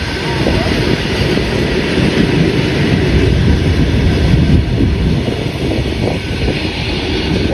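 A train rolls past close to the Ranuja helipad grounds, a loud, steady rumble of rail cars that fills the whole stretch without letup.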